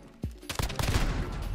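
A rapid burst of gunshots in a tournament video game, a couple of sharp single shots followed by a dense, close volley.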